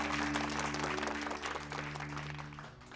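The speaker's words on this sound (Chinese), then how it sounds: "我们用最热烈的掌声，谢谢佟大当家的" A group of comrades claps in warm, sustained applause, a dense close patter that fades slightly toward the end.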